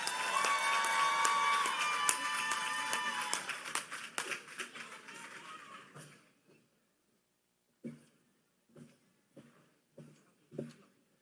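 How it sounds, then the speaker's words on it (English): Applause from a crowd at a skill center commencement for graduating aesthetics students, loud sustained clapping with cheers that fades out, followed by a few isolated coughs or claps in the quiet. "Can I get another round of applause for the aesthetic students,"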